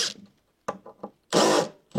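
A power drill whirs in short bursts while drilling holes in a timber-frame house wall: a couple of quick pulses, then one longer run before it starts again.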